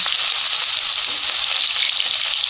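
Onion with dried red chilli and panch phoron spices frying in hot oil, a loud, dense, continuous sizzle close to the pan that ends abruptly.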